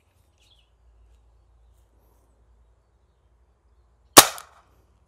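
One sharp, close shot from a Cobra P-60 semi-automatic air rifle charged to 2000 PSI, a crisp crack with a short tail after several seconds of quiet.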